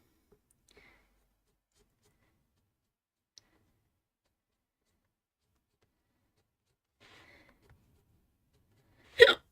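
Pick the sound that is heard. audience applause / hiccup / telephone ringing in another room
hiccup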